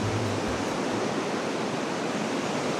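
Waves wash onto a smooth sandy beach at Khao Lak, Thailand, on a windy, overcast day: a steady, full roar of surf with a slight low rumble at the start, no voices.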